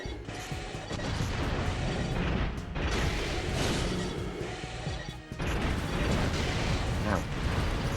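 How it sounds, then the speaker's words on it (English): Rockets fire and explode in the mech combat video game Armored Core 3, a continuous barrage of loud crashing blasts and mechanical clatter with brief gaps between volleys. "Y'all firing rockets at each other."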